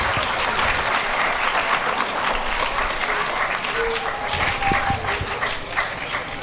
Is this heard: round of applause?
yes